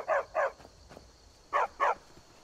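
A dog barks in the video game Skyrim, four close, loud barks arriving in two quick pairs with a short pause between them, over a quiet game background.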